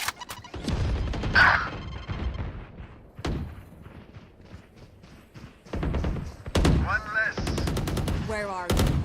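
Gunfire in the shooter game Valorant comes as sharp, loud bursts of rapid shots, with short pauses between volleys and a voice speaking between them.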